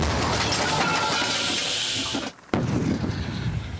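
A loud, sustained broadband roar with a sharp break as an artillery gun fires a shell, filling the whole clip with rushing noise.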